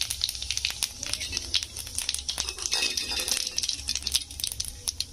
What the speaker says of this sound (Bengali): তেলটা গরম হয়ে গেলে এখানে